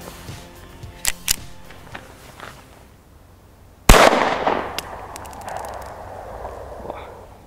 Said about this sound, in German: jetzt erster Schusstest mit der Walther P22.